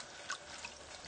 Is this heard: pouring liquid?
yes